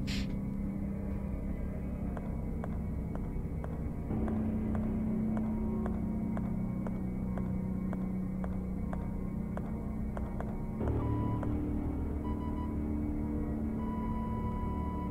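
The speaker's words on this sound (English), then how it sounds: "That's the flickering light." Steady low electrical hum from a flickering light in the survival horror game Tormented Souls, a continuous drone with faint regular ticking pulses, shifting pitch slightly partway through and carrying on without any voices.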